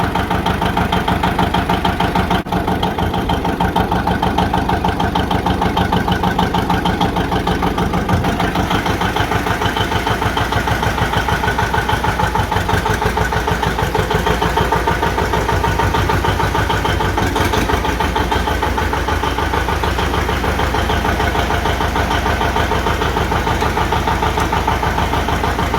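An old John Deere A tractor engine idles at low throttle, a steady close and loud mechanical running that continues unbroken, with no talk over it.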